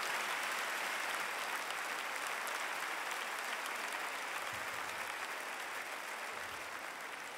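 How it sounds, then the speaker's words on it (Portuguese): Concert audience in a large arena applauds for a guest singer at an anniversary show, a dense, steady wash of clapping that holds loud and unbroken throughout. "Um grande aplauso."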